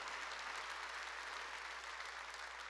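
A congregation claps during a church worship service, a dense and even wash of hands held steady at a moderate, somewhat distant level under a low steady hum.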